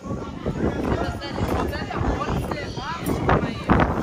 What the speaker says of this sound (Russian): Тут очень сильный ветер.